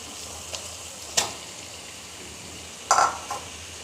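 Boiled, hand-mashed potatoes go into fried masala in a pan for Bengali aloo ghati, with a quiet steady sizzle broken by a few sharp clinks of a stirring utensil.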